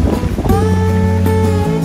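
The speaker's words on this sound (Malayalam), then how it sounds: "നല്ല സുഖകരമായ കാറ്റ്." Wind gusts across the Bewl Water reservoir, buffeting the microphone in a steady, close rumble, with low droning tones running beneath it.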